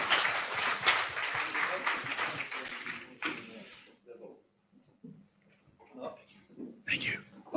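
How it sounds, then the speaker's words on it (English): An audience at a business-angels conference on startups scaling up in Europe applauds the final panel with a burst of clapping for about three seconds. Afterwards the hall goes quiet apart from faint movement and a few soft voices. "let us applaud also the panel"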